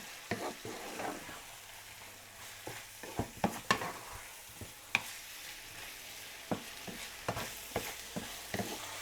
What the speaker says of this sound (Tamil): இது லேசாக புரட்டி எடுத்ததுக்கப்புறமா இது கூட நம்ம பொடி வகைகள்லாம் போட போகிறோம்.